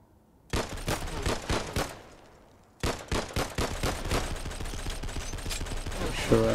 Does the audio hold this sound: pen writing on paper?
no